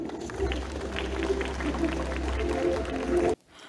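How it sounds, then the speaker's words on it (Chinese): An audience at an official results presentation applauds the deputy director onto the stage. Steady, close clapping with some voices continues, then cuts off abruptly just before the end. "掌声来欢迎我们的"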